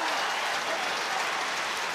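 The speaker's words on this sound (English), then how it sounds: "Franklin's Gardens rises to applause." A rugby stadium crowd at Franklin's Gardens applauds steadily after a try by Northampton Saints, a dense, continuous roar of clapping without pause.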